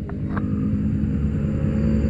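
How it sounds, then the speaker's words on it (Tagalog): Motorcycles running in the Sierra Madre mountains, a steady low engine rumble with a faint higher whine, close and fairly loud, continuous with no voices. "ito yung mga motor namin."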